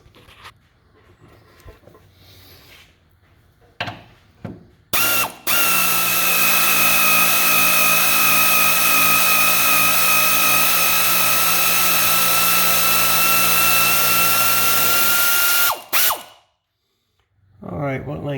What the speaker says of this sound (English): Time to grab an air wrench.